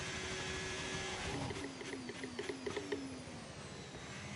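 A thin, whiny car engine revs up and down in a racing video game, rising and falling pitches over steady background noise, sounding small and buzzy like a radio-controlled car.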